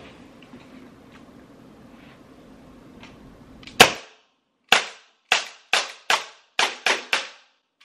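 Glock 17-style paintball pistol firing a full magazine: after a few quiet seconds, seven sharp cracks ring out, one loud lead shot then a rapid, slightly uneven string of pops, each dropping off quickly into silence.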